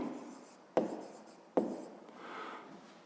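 Writing out a formula during a fifth-grade math lesson: soft scratchy strokes with two sharp taps where the writing tool strikes the surface, fairly close and quiet, with no talking.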